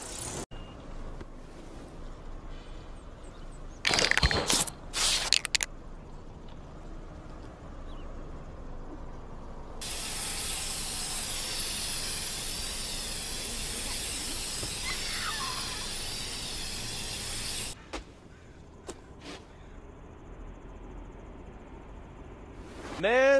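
An aerosol can sprays in one long, steady hiss lasting several seconds, preceded by a few sharp clacks and followed by more clicks.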